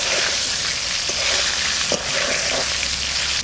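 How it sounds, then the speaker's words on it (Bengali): A hilsa fish head fries in hot oil in a pan, giving a loud, steady sizzle and hiss with a few sharp pops and crackles, close up and without talking. "এদিকে মাথাটাও ভাজা হয়ে গেল"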